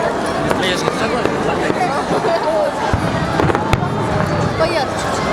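Victory Day fireworks salute on 9 May in Tula, a dense continuous rumble of bursts and crackles with scattered sharper bangs, heard from within a crowd with voices chattering throughout.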